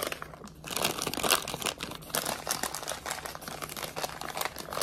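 A plastic shopping bag crinkles and rustles close up, handled continuously for a few seconds with dense crackling and no speech over it.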